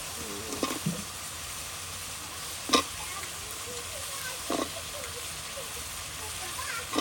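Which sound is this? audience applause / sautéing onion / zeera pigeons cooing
sautéing onion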